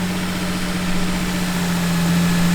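Lexus IS300 engine idling steadily right after its first start following work, a close, continuous low hum with a constant pitch and no talk over it.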